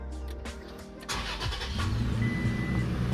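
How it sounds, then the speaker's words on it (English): A truck engine cranks and catches for an aftermarket remote-start install, a short starter whir followed by the engine settling into a steady low idle, close by with no speech. "first thing you're going to want to do is turn on the truck"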